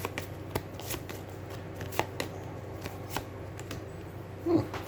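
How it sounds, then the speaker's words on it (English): Close, soft riffling and flicking of gemstone cards from the Aeons End War Eternal card game being shuffled. The taps are light and irregular, with a slightly louder shuffle near the end. "now I'm gonna shuffle one of the more expensive ones"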